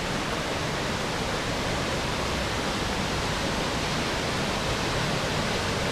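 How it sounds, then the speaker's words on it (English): Main cascade of Dalegarth Force waterfall in March, a dense, steady roar of falling water, constant and fairly loud with no voices. "And here we have the main cascade."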